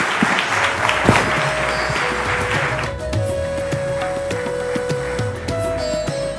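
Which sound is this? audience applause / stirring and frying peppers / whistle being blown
audience applause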